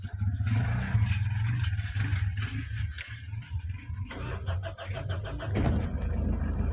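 An engine cranks and starts after a battery is fitted, a close rumbling idle with rattling clatter and a brief rise in revs, loud and continuous with no talking.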